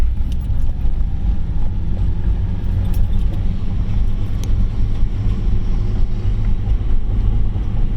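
A 1992 Honda Accord Wagon, one with a banging and clattering fault underneath near 3,000 RPM, pulls in second gear with a dense, unbroken rumble of engine and road noise and wind buffeting, and no one speaks.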